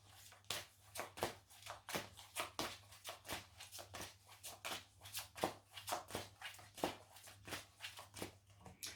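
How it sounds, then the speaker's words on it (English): Tarot cards shuffled and picked by hand, a steady run of close, crisp riffling snaps repeating about twice a second, quiet and alone over a faint low hum. "So I'm choosing 6 cards."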